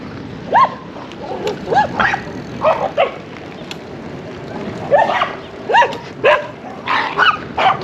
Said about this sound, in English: Those little heelers are mean dogs.